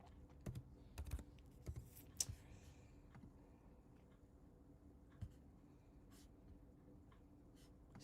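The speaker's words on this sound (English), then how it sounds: "I'm typing. I can't talk and enter these numbers at the same time." Quiet, sparse computer keyboard typing during a select board meeting, a few scattered clicks and key taps over a faint room hum.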